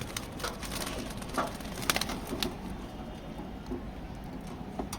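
Soft racing pigeon coos and rustling near a loft, with scattered brief calls over a steady low background murmur.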